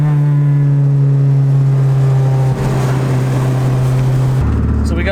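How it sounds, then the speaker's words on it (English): A Honda CRX with a swapped K20 engine revs loudly and close with a steady, buzzy drone. The pitch holds as VTEC engages, then drops near the end as the revs fall. "So we got VTEC to engage that time."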